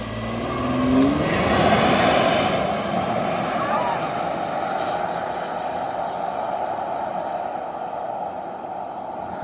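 A tuned Lincoln Aviator SUV, taken from stock to 500hp, accelerates hard outdoors at night, its engine rising to a loud roar early on, then fading into a sustained distant drone.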